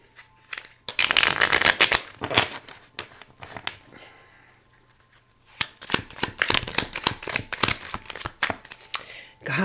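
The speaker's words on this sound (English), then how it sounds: "I am going to, of course, get you some message cards." Message cards are shuffled close by in a tarot-style reading, giving crisp riffling bursts and flicks in two main bouts separated by a quieter stretch.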